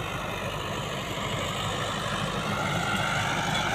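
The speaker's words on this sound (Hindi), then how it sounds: "खेत में ट्रैक्टर चल रहा है, जुताई कर रहा है" A tractor ploughing a village farm field gives a loud, steady engine drone that holds unbroken from start to finish, with no voices.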